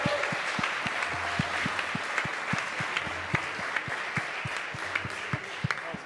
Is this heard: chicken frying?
no